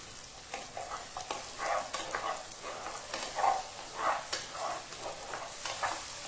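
Tomatoes and curry leaves fry in a pan with a soft, steady sizzle while a spoon stirs through them in repeated scraping strokes, close and fairly quiet.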